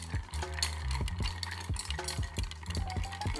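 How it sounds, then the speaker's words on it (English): Ice cubes stirred in a mixing glass for a white mezcal Negroni, giving a steady run of light clinks and rattles with regular taps, close and clear, with no talking. "Give it a nice stir."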